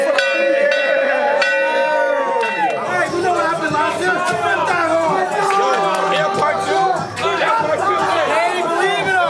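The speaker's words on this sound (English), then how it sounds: "Offensive line, ring the bell." A bell rings out at a high school football game celebration, Rockville versus Cromwell, ringing steadily at first and then sounding amid loud crowd cheering, shouting and chatter close by.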